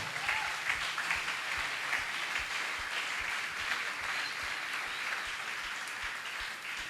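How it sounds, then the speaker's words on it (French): A church congregation at a Sunday service applauds for the Lord, a steady, dense clapping that fills the room at an even level throughout, with some faint voices mixed in. "Acclame bien pour le Seigneur."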